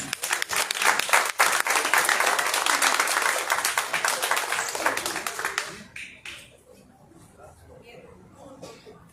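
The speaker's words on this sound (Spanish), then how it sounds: "Fuerte el aplauso." Audience applause at an art exhibition opening, a burst of many hands clapping loudly for about six seconds before dying away into scattered claps and quiet room murmur with a voice.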